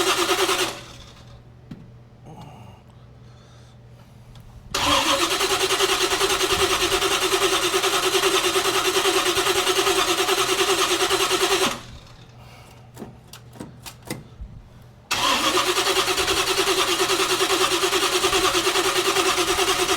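A flood-damaged 1972 El Camino engine cranks in two long bursts, each a loud, even, rapid churning that runs for several seconds and never catches. Quiet gaps separate the bursts, with a few faint clicks and knocks in between.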